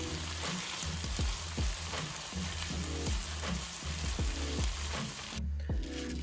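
A meat mixture seasoned with Worcestershire sauce fries steadily in a pan, a dense continuous sizzle with bubbling pops and soft periodic scrapes of stirring, close and loud throughout.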